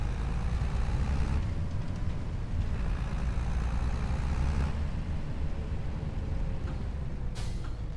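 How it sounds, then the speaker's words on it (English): A truck engine drones steadily in Farming Simulator 25 as it drives down a farm track on a Brazil map, a continuous low rumble with a short hiss near the end and no speech. "We'll try to use the truck again."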